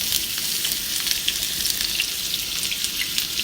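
Onion and garlic frying in a little oil in a pan, a steady, dense sizzle with fine crackling that holds constant and fairly close throughout, no voices.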